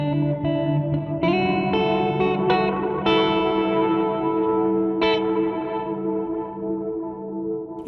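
Guitar chords and notes pass through an Old Blood Noise Endeavors Bathing pedal's warbling, modulated effect with swirling echo repeats, bubbly and wet, sustaining and decaying without any voice.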